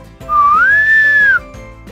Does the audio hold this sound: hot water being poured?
no